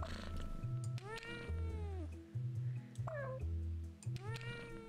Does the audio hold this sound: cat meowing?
yes